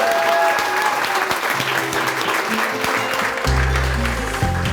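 A crowd claps and cheers at an outdoor memorial celebration, loud sustained applause filling the space close by, with a low musical thump entering near the end.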